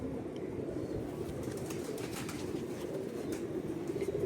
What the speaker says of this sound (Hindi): ये इसकी नोट है, ये इस कबूतर की दोस्तों नोट है।